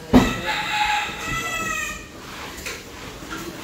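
A rooster crows loudly and close by, a drawn-out call that fades over a few seconds, with a faint clucking fowl and a sharp knock near the start.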